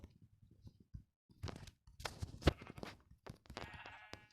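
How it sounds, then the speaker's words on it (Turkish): Sheep in the Minecraft video game let out several bleats among scattered game sound effects, fairly faint and mixed with short clicks and blips. "Bir tane daha koyun var."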